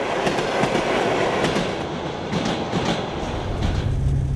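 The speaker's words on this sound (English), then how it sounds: "The train is now heading south." The Tsars Gold private train rolls along the single-track Trans-Mongolian Railway heading south through Mongolia, its wheels rumbling loudly and steadily with rhythmic clickety-clack from the carriages and a low drone building near the end.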